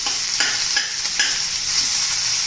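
Onion frying in oil for a spicy traditional chutney, with a steady hiss of sizzling throughout and a few distinct scraping stirs of the spatula cutting through it.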